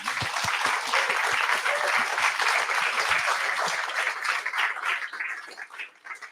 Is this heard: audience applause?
yes